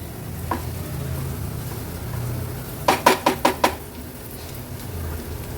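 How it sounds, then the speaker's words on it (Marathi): Onion and turmeric sauté in a pan over a high flame with a steady sizzle, broken near the middle by a quick run of five sharp metallic clinks of a utensil against the pan. "हळद कांद्यासोबत छान परतून घ्यायची आहे"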